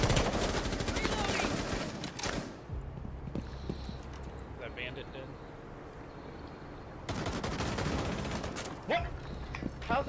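Gunfire in Rainbow Six Siege, rapid bursts of automatic fire at the start and again near the end with a quieter stretch between, under players talking.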